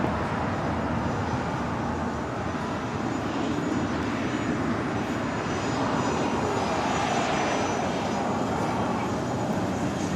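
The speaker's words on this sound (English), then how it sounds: "This Cessna Citation Latitude is coming in from Denver, NetJets 527" A NetJets Cessna Citation Latitude business jet arriving at Los Angeles International Airport, its engine roar a steady, loud, broadband rumble that holds level for the whole stretch with no voices over it.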